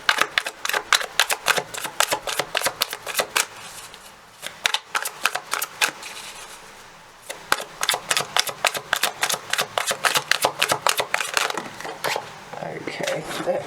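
A deck of tarot cards being shuffled close up, with rapid riffling flutters in quick bursts and a short pause partway through before the rapid riffling resumes.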